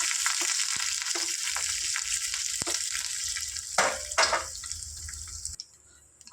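Curry leaves spit and crackle in hot oil, a close, steady sizzle with a few sharp pops and scraping stirs, ending in a sudden drop to near quiet.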